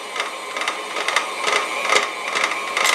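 An electric mixer works thick sugar cookie dough, whirring in a strained mid-pitched tone with repeated rhythmic thumps as the beaters drag through the stiff mass, close and alone.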